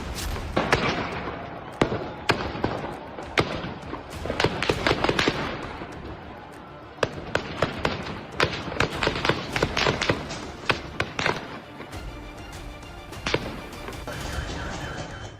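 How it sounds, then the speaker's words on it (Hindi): Rapid bursts of gunfire ring out as security forces fire on protesters in a Tehran street, sharp loud cracks in irregular volleys and quick strings, some close and some echoing farther off, over a continuous noisy background. "हर तरफ गोलियों की तड़तड़ाहट सुनाई दे रही है"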